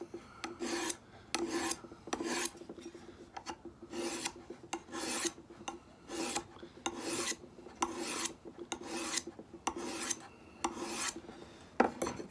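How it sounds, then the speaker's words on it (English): Knife blade drawn along a sharpening stone, a close rasping scrape repeated in a steady rhythm of roughly a dozen short strokes with brief gaps between them, no speech. "Let's see what it takes to sharpen it."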